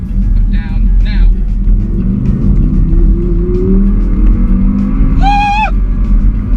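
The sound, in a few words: Audi R8 5.2 litre V10 coupe accelerating hard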